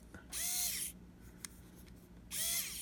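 A mini precision cordless electric screwdriver whirs in two short high-pitched bursts with a quiet pause between, heard close and fairly faint.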